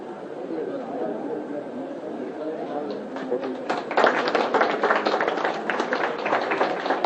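Hands clapping in welcome among a crowd, a dense patter of claps swelling midway and carrying on over steady background chatter.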